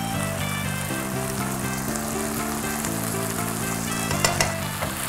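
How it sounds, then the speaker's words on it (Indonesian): Seasonings with oyster sauce stir-frying in a pan, sizzling loudly and steadily with a few scraping stirs near the end, over faint background music. "Kita tumis."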